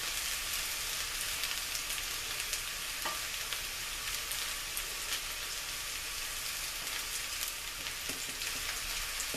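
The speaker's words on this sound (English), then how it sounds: "I'm going to add a little more oil here." Potatoes and onions frying in an oiled pan for home fries send up a loud, even, close crackling sizzle that holds steady for the whole stretch, with a faint tap or two and no talking.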